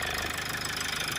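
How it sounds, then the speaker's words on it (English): A Toyota Avensis engine runs at idle with a loose airbox rattling, a close, steady buzzing chatter over the low engine drone. "It's got a really annoying rattle there on the airbox."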